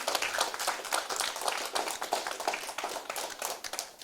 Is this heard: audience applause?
yes